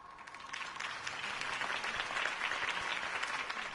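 A crowd's steady, fairly distant applause for Harvey Dent's campaign speech in Batman: The Telltale Series, an even wash of clapping sustained throughout without talk.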